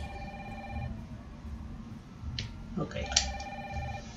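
Telephone ringing in Resident Evil 3 Remake on PS4, repeated bell-like rings sounding fairly faint beneath someone speaking Spanish over game noise.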